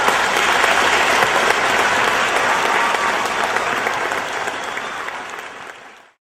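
A crowd at a Juneteenth Real Father Awards presentation breaks into a sustained round of applause, loud and dense throughout before gradually thinning and stopping.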